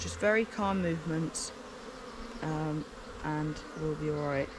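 Honey bees buzzing around an open hive during a spring inspection as frames are handled, a steady insect drone under calm speech from the beekeeper throughout.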